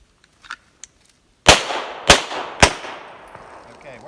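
Three sharp, loud pistol shots crack out at a shooting class, spaced roughly half a second apart, each with a short ringing decay, after a few faint clicks.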